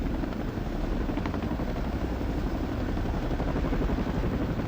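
Chinook helicopters flying close together overhead, a loud continuous rotor thrum and throbbing engine roar filling every moment without pause or talk.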